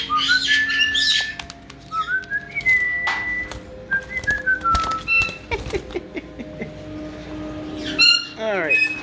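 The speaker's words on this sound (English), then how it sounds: "Hi, Spiky Bird." Pet bird at home whistling in rising and falling melodic phrases mixed with sharp squawks and chirps, loud and close, with brief pauses between calls and a few soft background noises.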